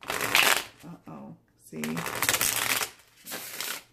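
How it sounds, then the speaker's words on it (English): A new deck of oracle cards is shuffled in quick riffling bursts, crisp and close, with a few short spoken remarks between them. "I want to see how it ripples, shuffles."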